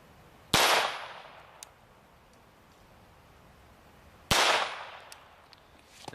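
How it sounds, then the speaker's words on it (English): Two sharp .22 long rifle pistol shots ring out a few seconds apart, each a loud crack with a bright metallic clang and ringing tail from the round striking a titanium plate. "Starting it off right with a .22 long rifle out of this pistol."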